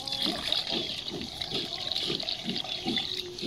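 Running water trickles and splashes steadily at close range, with a soft rhythmic gurgle underneath and no talking.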